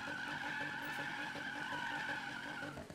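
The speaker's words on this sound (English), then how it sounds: "We want to try and get the perfect wheel temperature and the perfect burnout here." Tire burnout from a 2017 Nissan GT-R in Need for Speed, a steady high screech of spinning tires over a droning engine, held at constant level throughout.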